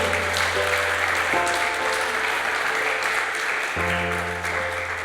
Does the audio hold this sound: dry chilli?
no